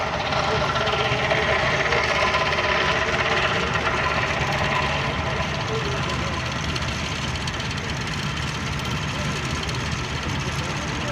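Vintage pre-1930 Rumley tractor engine running in the show ring at a heritage show, a steady rumbling, knocking chug heard close and continuously while an announcer talks over it.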